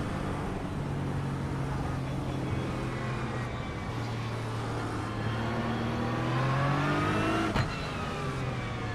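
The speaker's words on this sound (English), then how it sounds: "This is the Aston Martin GT3." An Aston Martin GT3 race car engine in the iRacing sim, a steady loud drone that rises in pitch as it revs and accelerates, running continuously with no talk.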